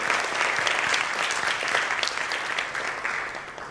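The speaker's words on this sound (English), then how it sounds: "I think that calls for a round of applause before we begin the formal." A round of audience applause at a formal interaction session, loud and even at first and then gradually thinning as the clapping tapers off, with no voices on top.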